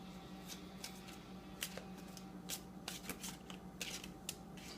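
Tarot cards being shuffled by hand, a run of quick, faint riffling bursts with short pauses between them, close up and otherwise quiet.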